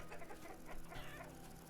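A hen in the video game Vintage Story gives a few soft, rhythmic clucks, quiet and nearby, over a low ambient background.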